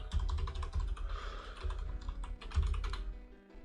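Rapid typing on a computer keyboard, steady clusters of close, crisp key clicks running continuously with a brief pause near the end.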